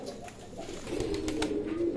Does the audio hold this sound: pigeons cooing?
yes